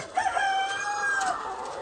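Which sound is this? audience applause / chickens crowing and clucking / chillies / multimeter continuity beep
chickens crowing and clucking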